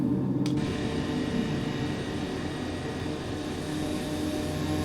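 Airliner in Microsoft Flight Simulator 2024 climbing after takeoff from Miami bound for Freeport, its engines giving a steady, loud roar with a brief click near the start and no talking.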